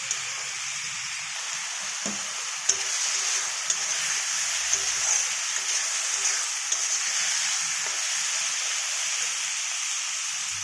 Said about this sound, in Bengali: আরও 5 মিনিট সময় একটু নেড়ে চেড়ে ভালো করে মিশিয়ে নেব